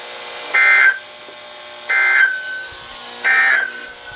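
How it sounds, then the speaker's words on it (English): Three loud, identical alarm tone bursts from a NOAA weather radio during a tornado watch, each lasting about a third of a second and spaced evenly apart. "This station will broadcast severe weather alarm tones"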